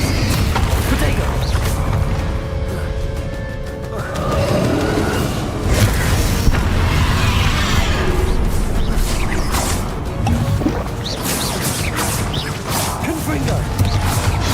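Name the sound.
spell casting and Confringo blasts from the video game Hogwarts Legacy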